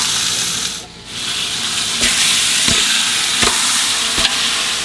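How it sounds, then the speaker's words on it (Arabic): Minced meat and onions sizzle and fry steadily in a pan, with sharp scraping knocks of a spoon stirring them at regular intervals; the sizzling stays close and continuous throughout. "ودحين نقلب اللحمة يا حبايبنا مع البصل"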